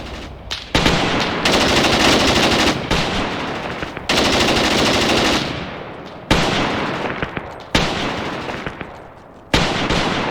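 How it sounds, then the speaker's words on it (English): Machine gun fire in the war game Graviteam Tactics rattles in several long, loud bursts separated by short gaps, with distant reverberant gunfire between them. "Turn a machine gun on them. Mow him down, will you?"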